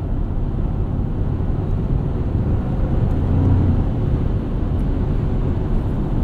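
A 2024 Toyota Tacoma driving along gives a steady low engine and road rumble heard from inside the cabin, even and continuous with no distinct gear change standing out.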